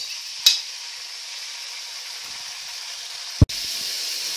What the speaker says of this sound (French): la viande est en train de revenir, hein, donc avec toutes les épices